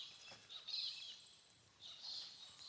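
Faint bird calls in the Australian bush, two high chirping bursts separated by a short pause, distant and quiet over a soft background hush.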